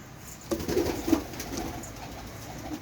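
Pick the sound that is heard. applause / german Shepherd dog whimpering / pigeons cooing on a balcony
pigeons cooing on a balcony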